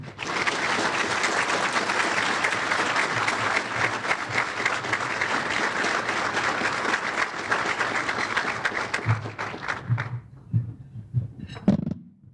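A luncheon audience at an investor event applauds to welcome Senator Maria Cantwell, a loud and steady wash of clapping that goes on for about nine seconds and then thins into a few scattered claps.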